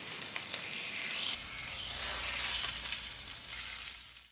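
A pork tenderloin sears in a hot pan just after being flipped, producing a loud, continuous sizzle that swells and then eases slightly toward the end, heard alone.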